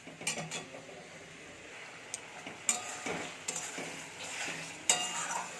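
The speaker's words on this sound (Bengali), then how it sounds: "তারপর দিয়ে দেবো কেটে রাখা ডুমো ডুমো করে আলুগুলো দিয়ে একটু ভালোভাবে নাড়াচাড়া করে নিচ্ছি আমি।" Diced potatoes stirred in a pan with ginger garlic paste for a Bengali cabbage curry, soft frying hiss under intermittent scraping and clinking of a spatula, with a few sharper knocks.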